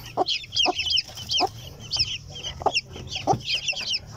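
A Silkie hen clucks in short bursts near a box of newly hatched chicks, whose high, rapid peeping repeats throughout, close and lively.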